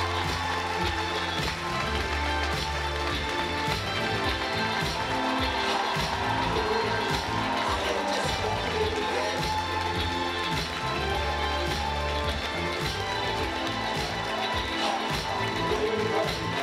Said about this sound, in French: je vous demande d'applaudir à fond, je vous demande d'applaudir longtemps